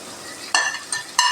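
Chicken pieces drop into a hot oiled pan, three quick sizzling bursts that flare up one after another over a quiet kitchen background.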